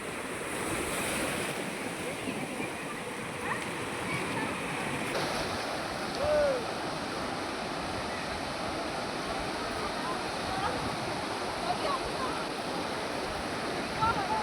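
Sea waves roll in at Murudeshwar beach, a steady surging wash of surf with wind buffeting the microphone, continuous and fairly loud throughout.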